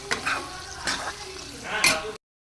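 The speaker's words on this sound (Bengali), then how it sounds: "সবটা ভালো করে মিশিয়ে দেবো" Vegetables, fried chicken and a chilli, soy and tomato sauce mixture stirred in a pan, with a few scraping strokes of a spoon over a soft sizzle. The sound stops abruptly.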